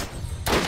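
Gunfire from the co-op video game Borderlands: a quiet stretch, then one loud, sharp burst of shots that starts midway and rings out to the end.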